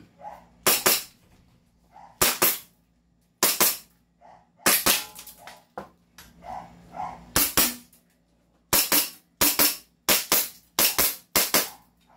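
A toy gun fires a series of sharp, loud snapping shots, singly and in quick pairs and runs, with short silent gaps between, close by and without talking.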